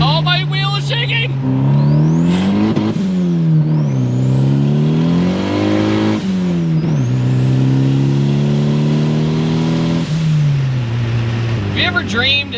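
A turbocharged Honda Accord sleeper build with a cheap turbo and about 350 hp, accelerating hard; a loud, close engine note climbs through the gears in several rising sweeps with shift breaks, while a voice shouts briefly at the start and end.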